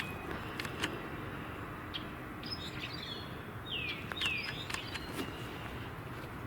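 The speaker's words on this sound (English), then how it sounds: "That might be rusty blackbird." Rusty blackbird calling outdoors, a few faint squeaky, rising call notes standing out over quiet background noise, distant and sparse.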